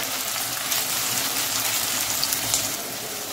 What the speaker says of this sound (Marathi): कांदा पण मस्त फ्राय करून घेऊ